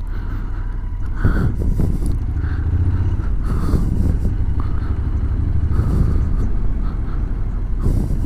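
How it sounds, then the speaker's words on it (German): Kawasaki 400 motorcycle riding through a crowded Swiss tourist area near the Rhine Falls and Munot, a steady low engine drone with passing vehicle noise, no talk. "400er Kawasaki."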